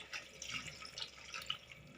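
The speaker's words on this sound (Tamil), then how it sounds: "இப்போ வந்து சுடு தண்ணி வச்சுருக்கிறேன். அதை ஊற்றிக்கலாம்." Hot water poured from a kettle over vegetables simmering in a cooking pot in a home kitchen, a faint, steady wet splashing and trickling hiss with small drips, no voices.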